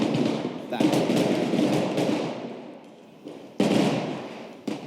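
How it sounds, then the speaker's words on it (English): Sharp bursts of staged gunfire on a film set crack out over a noisy, busy street background, with a loud burst near the end and a few smaller pops between. "I'm confused by the gunfire constantly"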